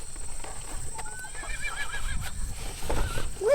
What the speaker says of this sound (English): What are these horses talking about?